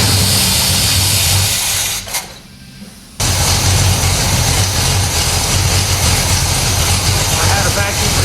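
A rebuilt 455 Pontiac LeMans engine runs roughly and struggles to idle, with a loud, close, low rumble that briefly drops out before roaring back steadily.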